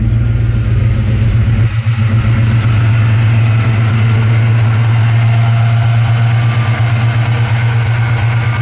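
A Chevy V8 fitted with a Summit Racing ignition system idles loudly and close, a steady low rumble with no talking.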